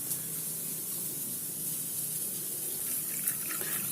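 Strained tamarind water pouring steadily into a cooking pot in a village kitchen, a continuous close splashing gush without pause.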